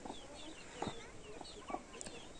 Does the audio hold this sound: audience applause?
no